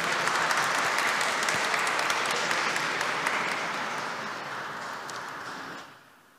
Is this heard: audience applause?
yes